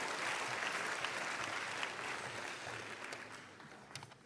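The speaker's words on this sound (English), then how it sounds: "how about another round of applause for this guy?" Banquet guests at an awards dinner clap together in a sustained round of applause that gradually thins and fades out toward the end.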